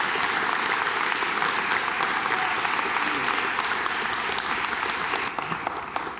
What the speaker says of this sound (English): Big round of applause would be appropriate.